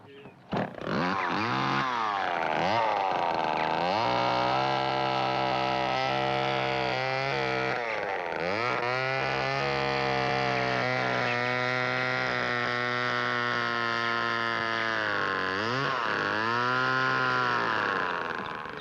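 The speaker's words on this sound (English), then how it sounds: "we'll rough it in with power tools, and then begin the carving." A chainsaw-like power tool roars steadily and loudly while roughing out a wooden totem pole, its engine pitch dipping and revving several times as it bites into the wood, with no voices.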